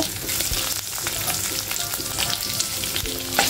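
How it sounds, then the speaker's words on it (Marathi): Chana dal and urad dal roast in a hot pan with a dense, steady crackling sizzle and frequent quick scrapes of a spoon stirring the lentils, close and fairly loud throughout. "चण्याची डाळ आणि उडीद डाळ लाल व्हायला नाही द्यायची आहे, हे चांगलं भाजून घ्यायचं"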